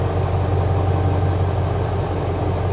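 Pickup truck engine idling steadily with a low, even rumble after an electrical load is switched off, close and constant with no talk.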